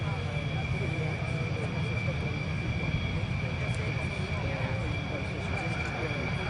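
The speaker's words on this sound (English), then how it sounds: "The Polish-built MiG-15 UTI of the Norwegian Air Force Historical Squadron taxiing out." Polish-built MiG-15 UTI jet trainer taxiing at an air show, a steady distant jet whine and roar heard under a continuous background wash of crowd noise and a voice over a loudspeaker.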